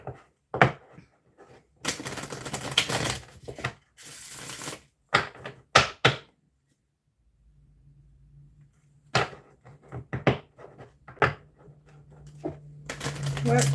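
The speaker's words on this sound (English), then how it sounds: "I'm going to shuffle and then I'll pull us a couple of cards from this deck" A deck of cards being shuffled in several quick riffling bursts with pauses between them, close and fairly quiet, with a low hum in the later part.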